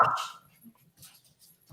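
A dog gives a sharp, loud bark at the start, followed by softer scattered whimpers and yips. A final short bark comes near the end. It sounds close by, indoors.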